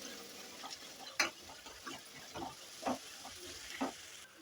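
Ingredients fry in oil for mango chitranna, a faint steady sizzle broken by soft scraping and stirring clicks in a quiet kitchen.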